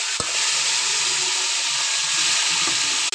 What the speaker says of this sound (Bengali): কপিগুলো লাল লাল করে ভালো করে ভেজে নেবো।